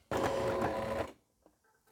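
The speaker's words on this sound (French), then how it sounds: "j'utilise mon pied standard et je viens coudre le long à 1 cm du bord" Sewing machine with a standard presser foot stitching a zippered fabric pouch one centimetre from the edge, a loud close burst of about one second that stops abruptly, followed by faint handling noises.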